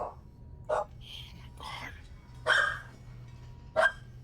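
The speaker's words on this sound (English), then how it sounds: "Dumb dog." Several short, sharp barks from a dog named Effie, one of the household puppies, spaced across a few seconds, fairly close and moderately loud indoors, with quiet voices murmuring between the barks.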